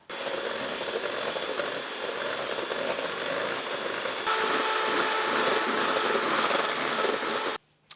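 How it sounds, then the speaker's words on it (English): Hand mixer whipping three egg whites to stiff peaks, a steady buzzing whir that grows a little louder and brighter halfway through, then stops abruptly just before the end. "then we're going to mix this to a stiff peak with a hand mixer since it's only 3 egg whites"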